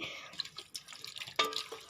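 Water is poured into a pressure cooker of beef in short, uneven splashes and trickles, close by and moderately quiet, with a brief louder gush near the end.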